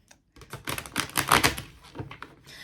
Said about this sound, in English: I have a second deck here that I'm just gonna shuffle